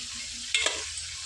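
Chicken with ginger garlic paste and turmeric sizzles steadily in a pan, and one or two quick stirring scrapes stand out briefly, close and fairly quiet, with no voices.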